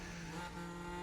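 Mercedes F1 race car in the F1 Manager video game at the French Grand Prix, a high-pitched engine whine with steady tonal harmonics passing close by, brief and fairly loud, with no talking.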